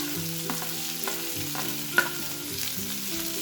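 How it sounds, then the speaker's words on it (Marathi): Chopped tomato and spring onion sizzling as they are sautéed in a pan for masala oats, a steady close frying hiss broken by soft spatula scrapes and taps. "हे सुद्धा आपण एक ते दोन सेकंद छान असं परतून घेऊ आता ऍड करूया टोमॅटो आणि कांदा पात"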